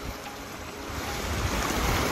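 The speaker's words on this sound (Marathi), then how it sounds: "पण हे असं पाणी जाऊन त्या समुद्राला मिळत आहे" Stream water running into the sea at Bhandarpule beach in Ratnagiri, a soft continuous wash of surf and flowing water with light wind buffeting the microphone, fairly quiet and steady.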